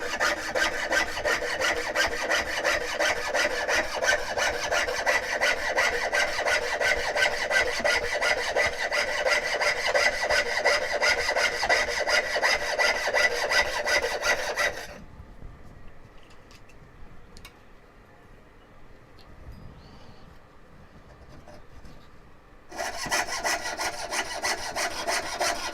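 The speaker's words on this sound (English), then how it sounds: "Constant sawing." Steady back-and-forth hand sawing through wood while carving spoons, loud and close, runs for about fifteen seconds, pauses to quiet rustling, then resumes.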